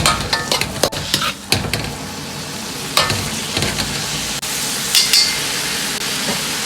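Lettuce stem being stir-fried in a wok with salt, pepper and a little sugar, giving a steady sizzle broken by scraping spatula strokes and occasional light clinks of metal on the pan.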